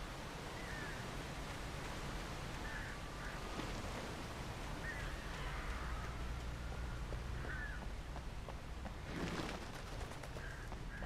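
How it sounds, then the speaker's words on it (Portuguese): Crows caw in Alan Wake Remastered: faint, scattered calls repeat every second or two, some distant, over a steady wash of wind-like ambient noise. "Corvos."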